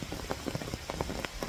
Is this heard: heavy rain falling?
yes